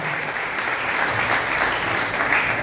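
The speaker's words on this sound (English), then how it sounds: "let's give Onat a huge round of applause for being sport" Steady applause fills an award show hall for a real estate industry ceremony, a dense, even wash of clapping from a large audience that holds at constant loudness throughout.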